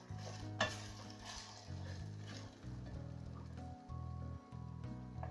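Cut potatoes fry in oil in a pan for a potato-and-egg Spanish tortilla, a soft continuous sizzle with a few scraping stirs and one brief clatter near the start, fairly quiet and close.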